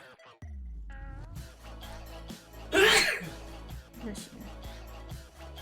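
A single sharp sneeze bursts out mid-clip, loud and close, during a quilting session, with conversational talk around it.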